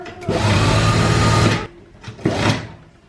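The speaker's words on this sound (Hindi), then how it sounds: "अब मैं इसको डबल करके सिलाई करूंगी।" Sewing machine running steadily as it double-stitches the lining of a young girl's frock, one long continuous burst of stitching, a short pause, then a second shorter run, close and fairly loud.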